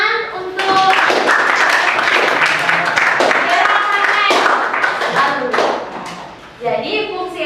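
A classroom of pupils claps hands in an Indonesian dance-appreciation lesson, a loud, lively burst of many hands lasting several seconds, dipping briefly near the end before picking up again, with some children's voices mixed in.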